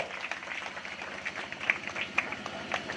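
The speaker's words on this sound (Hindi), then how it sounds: "आप सभी लोग ताली तो बजा दीजिए अगर अच्छा लगे तो" Audience applause at a wedding ceremony, a steady patter of many hands clapping at moderate volume for a few seconds with a few sharper claps standing out.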